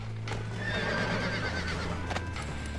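A horse in the video game Red Dead Redemption neighs in a clear whinny, close and loud, with hoof clip-clops and game background sound around it.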